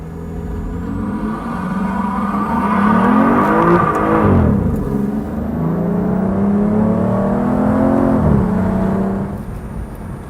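A British car revving hard as it attempts a burnout, the engine note climbing and falling in two loud surges with harmonic whine, close and sustained, no talk over it.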